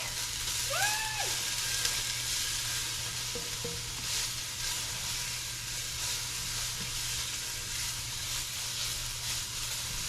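Garlic frying in a pot for a curried pumpkin soup, a steady bright sizzle with a few scraping stirs of a utensil early on, continuing evenly without talk.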